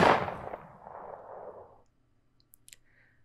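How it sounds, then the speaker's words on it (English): A sharp gunshot sound effect opens loud and decays over about two seconds, followed by a few faint clicks and a brief quiet tone. "Oh yeah, and the gunshots."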